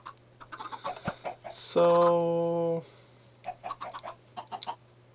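Synthetic Minecraft chicken clucks, several short bursts before and after a sustained buzzy tone, with a steady low hum underneath.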